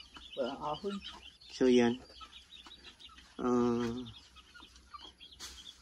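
Chickens cluck in short bursts close by, with a few calls rising over a brief spoken phrase.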